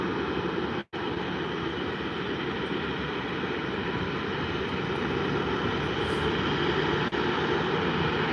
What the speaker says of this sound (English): So we've now got a Ryanair 737 taxiing